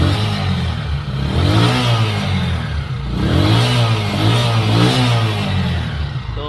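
A tricycle motorcycle engine fitted with a steel bushing revs up and down close by, rising and falling in repeated swells with rattling mechanical clatter under the exhaust note.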